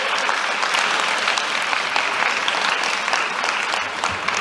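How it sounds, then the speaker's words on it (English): Graduating class audience at a distinguished alumni ceremony giving themselves a loud, continuous round of applause, dense clapping sustained evenly for over four seconds. "Could you give yourselves a round of applause for being so good?"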